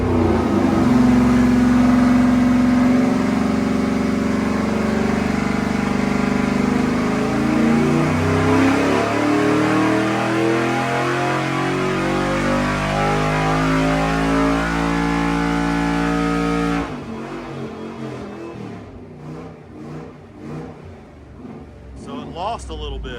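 A 5.3 LS V8 engine on a dyno roars loud and continuous through a pull, its pitch sweeping upward, then drops abruptly to a rougher, lower rumble as the run ends.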